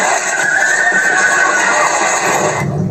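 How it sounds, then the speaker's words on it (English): Horses on a farm during a wildfire, a loud drawn-out whinny rising over the noise and fading, with faint hoof clatter beneath. "At this farm, trainers forced to set their horses free with no time to lead them to safety."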